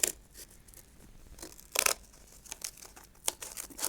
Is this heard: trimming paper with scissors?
yes